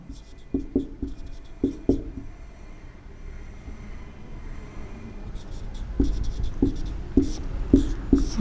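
A teacher writes a place name on a board with short scratchy strokes in two bursts, a quiet gap between them. No one speaks.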